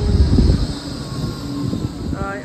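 A tram rumbles heavily at close range, with a low mechanical roar and a brief rising squeal of wheels near the end.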